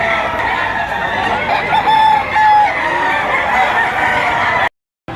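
Many chickens cluck and roosters crow together in a loud, crowded chorus, with layered calls overlapping throughout before a brief sudden cutoff near the end.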